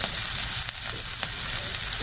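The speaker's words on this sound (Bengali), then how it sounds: "পেঁয়াজ মরিচটা কিন্তু ভাজা হয়ে গেছে।" Onion and green chili fry in hot oil in a pan, a steady close sizzle running the whole time with no talk.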